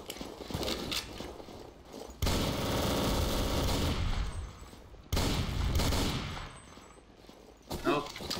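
Gunfire in the World War II shooter game Day of Defeat: Source, with two long loud bursts of rapid automatic fire separated by quieter stretches, plus a short burst near the end.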